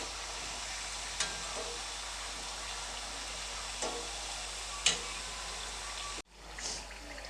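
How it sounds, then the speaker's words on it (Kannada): Chakli fry quietly in oil over a low gas flame, a faint, steady sizzle with a few soft clicks and a brief dropout near the end. "ಗ್ಯಾಸನ್ನು ಲೋ ಫ್ಲೇಮ್ ಇಟ್ಕೊಂಡು ಬೇಯಿಸ್ಕೊಳ್ತೀನಿ"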